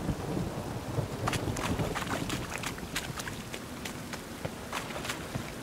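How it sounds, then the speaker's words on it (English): Steady rain pours down in a dense hiss, with scattered sharper drops and splashes standing out against the constant wash. "Raining again."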